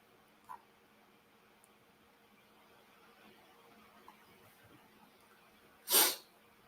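A single sudden sneeze bursts out near the end, short and fairly loud against a quiet room with faint background hum.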